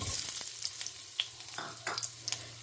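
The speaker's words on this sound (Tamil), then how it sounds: "இது கொஞ்சம் வதங்கட்டும்." Something sautéing in a pan on the stove while a prawn dish is prepared, a soft, steady sizzle with a few faint scraping ticks of stirring, fairly quiet and with no voices.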